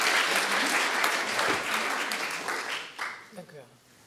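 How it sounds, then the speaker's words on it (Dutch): Studio audience applauds for a guest on a Dutch TV show about money and the Postcode Lottery, a full burst of clapping that gradually thins out and fades over a few seconds. "Dus graag even een applaus voor Bea."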